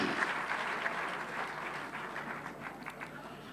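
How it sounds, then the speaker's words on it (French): An audience applauds at the presidential inauguration in Djibouti, a fairly soft, continuous wash of clapping from a crowd that fades slightly toward the end, with no voices over it. "Je vous demande de l'applaudir chaudement."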